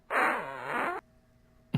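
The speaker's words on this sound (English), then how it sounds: "time I will hit the fart button here" A fart sound effect triggered from a soundboard button: one loud, wet, sputtering blast of about a second with a falling tone, then quiet.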